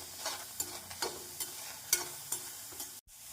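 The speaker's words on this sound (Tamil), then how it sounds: "நம் தக்காளி சேர்த்து நன்றாக வதங்கும் வரை வதக்க வேண்டும்" Onions and tomatoes sautéing and being stirred in a pan for a liver curry, with a steady soft sizzle broken by regular scraping strokes of the spoon, close up, ending in a brief silence.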